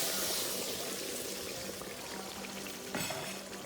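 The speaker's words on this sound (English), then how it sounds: "So this is how you want your onion to be before you add in the water. Okay, so the rest of the water goes in." Water is poured into a pot of cooked onions for a spicy Gambian fish stew, a steady broadband splashing stream lasting throughout, close and fairly loud, with no talk over it.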